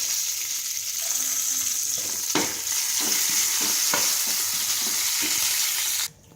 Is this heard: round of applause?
no